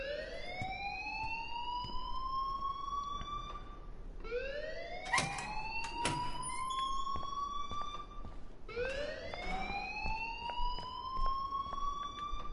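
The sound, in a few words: alarm ringing in the video game Life is Strange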